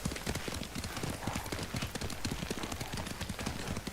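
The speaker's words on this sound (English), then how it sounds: "Lord Sakai taught me to ride a horse" Horse hooves clip-clop in a brisk, steady riding rhythm in the Ghost of Tsushima video game, continuous and fairly close, with little else over it.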